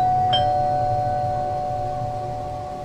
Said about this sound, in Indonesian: Biar begitu, dia menekan bel pintunya.